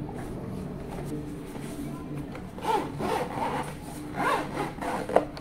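The zipper on a headphone carrying case for Anker Q45 noise-cancelling headphones being drawn open in a few short, raspy pulls, close and fairly quiet, with handling noise between strokes.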